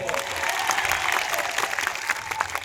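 A crowd at a political rally applauds steadily, a dense wash of clapping that holds at an even level throughout.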